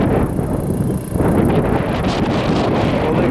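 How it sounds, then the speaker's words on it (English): Strong wind at sea buffets the microphone in heavy, uneven gusts, a loud rushing roar that dips briefly before surging again, with no voices. "It's still windy out here, but it kind of subsided down a little bit."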